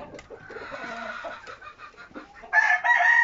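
Roosters cluck and crow close by, with busy overlapping clucking giving way to loud crowing calls near the end.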